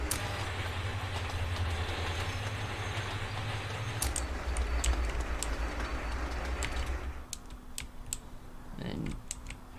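Trains running in the railway-building game Sweet Transit: a steady low rolling rumble with rhythmic clickety-clack that fades out near the end, overlaid by rapid keyboard typing and mouse clicks close by.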